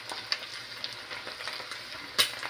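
Freshly cooked Arab-style taco meat sizzles softly in a pan, a quiet crackling hiss with scattered pops and one sharper crackle near the end, no voices.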